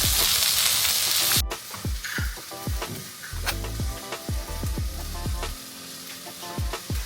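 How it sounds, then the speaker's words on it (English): Brussels sprouts with ginger sesame dressing sizzling in a hot pan, a loud hiss at first that settles into steady frying with repeated scraping and stirring sounds. "So I added the ginger sesame dressing onto it so that it can cook into the Brussels sprouts, giving it more flavor."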